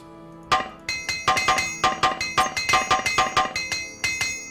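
Smithing hammers clang on metal at a forge in The Elder Scrolls: Legacy video game, a quick run of about twenty loud, ringing metallic strikes in uneven bursts, with no speech.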